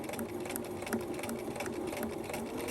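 Sewing machine stitching fabric for a zipper pouch, a fast steady mechanical whirring with a rapid needle rhythm, close and continuous throughout without speech.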